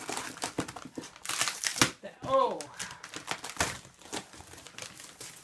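Packing paper crumpled and crinkled while unpacking a Bell & Howell Filmosound Specialist 552 16mm projector, in loud, close, repeated bursts of rustling with a brief spoken exclamation.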